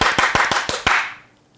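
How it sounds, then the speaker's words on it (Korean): A small crowd at a Korean redevelopment district meeting claps, six sharp rhythmic bursts of applause close by, then fading away. "박수!"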